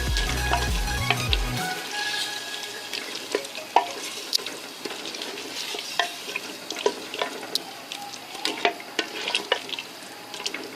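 Chicken and tomato puree sizzle and crackle in a hot pan while a utensil stirs, scraping and clinking against it in an irregular rhythm, with no talking.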